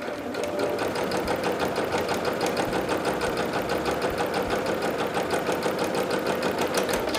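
A sewing machine runs steadily while stitching a fabric seam. The motor whirs close up and the needle taps in a fast, even rhythm, with no break over the whole run and no talking.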